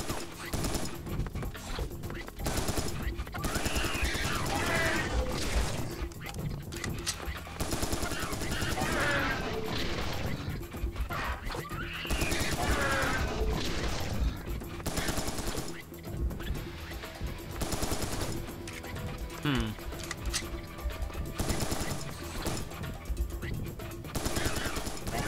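Rapid gunfire from the shooter video game Serious Sam 3: BFE crackles in dense bursts throughout, with someone talking over much of it.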